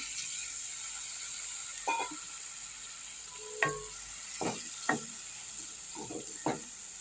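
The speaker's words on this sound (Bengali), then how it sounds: "এরপর আমি এতে পটলগুলো দিয়ে একটু নেড়ে নেব পটলের গায়ে যাতে মশলাগুলো লেগে যায়" Pointed gourd is stirred into fried spice paste in a pan, quiet sizzling under a series of distinct scraping and clattering stirs spaced a second or so apart.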